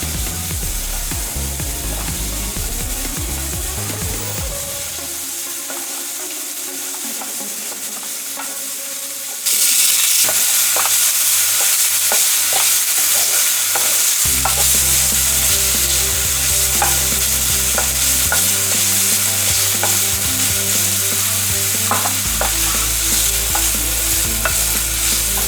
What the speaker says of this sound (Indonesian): tambahkan udang yang telah disediakan sebelumnya untuk digoreng bersama daging ayam di dalam wajan penggorengan